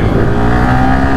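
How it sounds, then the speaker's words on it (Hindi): A 2021 Yamaha R15 v3 motorcycle engine runs loud and close in a brief, gruff burst of revving, with no talk. "and let's start the bike"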